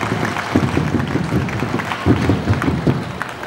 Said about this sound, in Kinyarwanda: mbahaye amashyi menshi